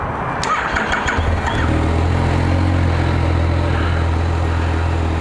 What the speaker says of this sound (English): Alright, let's start this thing up.